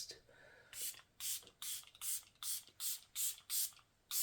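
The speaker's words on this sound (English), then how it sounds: "we're going to test it, see what the spray's like" A travel-size makeup setting spray puffs fine mist onto a face in about eight quick, evenly spaced hissing bursts, close and crisp, each spritz separated by a brief pause.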